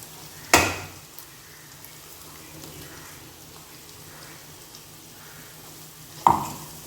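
Tomato and onion fry in a pan with ground masala, giving a soft, steady sizzle, broken twice by a sharp clank of a utensil against the pan.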